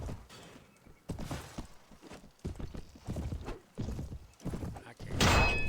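Horse hooves clatter in a rapid clip-clop rhythm in the Mount and Blade Warband video game, with a sharp neigh near the end, while someone talks over the gameplay sounds.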